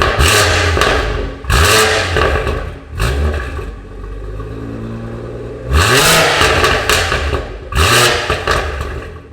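A BMW M140i fitted with a Scorpion straight-through exhaust starts and revs hard in repeated loud bursts, each blip rising and falling back to a deep burbling idle between revs, with no talking.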